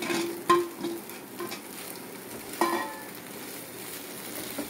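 Onion and prawns frying in a pan for a crispy South Indian prawn fry, a soft steady sizzle with a few scraping stirs of a spoon, close and quiet, no voices.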